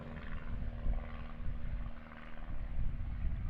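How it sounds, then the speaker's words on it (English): A Christen Eagle aerobatic biplane with a 200-horsepower propeller engine drones steadily overhead, a low rumbling buzz that swells and fades slightly as it flies at an aerobatics championship. "flying his Kristen Eagle"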